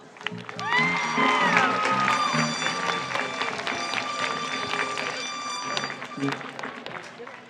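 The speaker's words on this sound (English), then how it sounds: "Round of applause, please." Applause swells from a large outdoor crowd at a high school graduation ceremony, dense clapping mixed with cheers and whistles, sustained and loud before easing slightly, with voices heard at the start.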